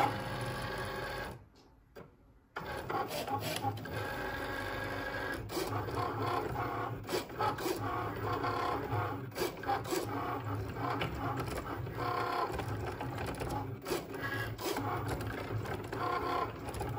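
A Cricut cutting machine works through a mat of words for wood signs, a busy mechanical whirring with rapid clicks and carriage shuttles, briefly pausing near the start and then running steadily for over ten seconds at close range.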